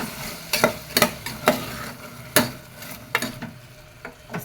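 A spatula stirs a vegetable biryani mixture in a pan, giving sharp scraping knocks at an uneven rhythm over a soft sizzle, close and clear with no talking.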